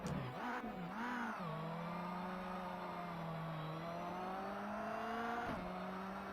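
Mini Cooper engines in the Race Pro racing game, a steady droning whine from the player's car holding pitch with short revving dips and rises near the start and end, constant and fairly quiet.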